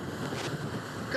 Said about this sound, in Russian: оборот увеличивается, уже практически сносит с ног, и в этот момент К-52 отрывается от земли. Вот она, сила двигателя.